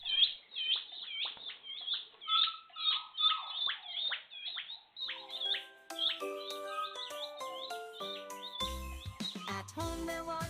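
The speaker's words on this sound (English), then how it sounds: "You can hear him whining in the background." A dog whines in high, thin cries amid busy peeping of chicks in an indoor brooder, with a tuneful melody joining partway through.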